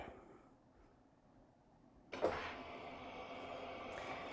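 A quiet room, then a sudden mechanical start as a SmartSlydr automatic opener motor drives a sliding door open, a steady whirring hum that continues to the end.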